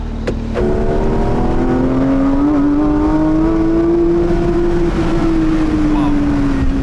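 A Porsche 992 GT3's flat-six engine drones from inside the car on a scenic road, its loud tone climbing smoothly as it accelerates, with road and cabin noise beneath.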